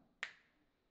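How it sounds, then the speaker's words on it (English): A single crisp finger snap, close and sharp, followed by a short fading ring in an otherwise quiet room. "When I snap my fingers, I want you to say that letter in your head and in your head only."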